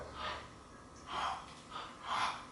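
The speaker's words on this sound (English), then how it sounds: "Quick breath, like you're yawning" Quick, yawn-like breaths taken as part of a singing exercise, four breathy gasps spaced about a second apart, close and fairly loud with no talking.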